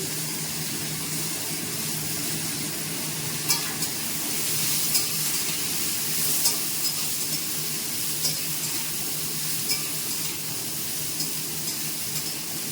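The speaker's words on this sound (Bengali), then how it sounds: "ভাজা পটলগুলো লাল লাল করে ভাজা হয়ে গেছে আমি আর কোনো তেল অ্যাড করছি না ওর মধ্যেই বাকি সবজিগুলো দিয়ে দিচ্ছি" Mixed vegetables added to fried pointed gourd sizzle steadily in the pan, with a continuous moderate hiss and regular scraping taps as a spoon stirs through them.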